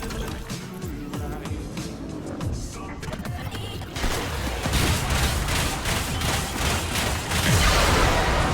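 Weapon fire in Warframe during a Techrot Encore mission, with dense rapid shots building through the second half over a constant bed of game noise.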